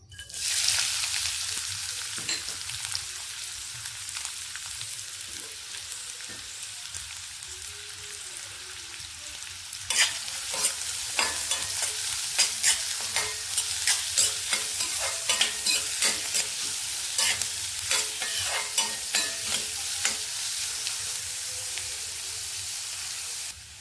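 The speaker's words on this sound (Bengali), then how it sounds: "এবারে তেলে আমি পেঁয়াজ আর লঙ্কা কুচিটা দেবো" Chopped onion and green chili frying in hot oil give a steady sizzle. Frequent clattering stirs join in during the second half, fairly close and with no talking.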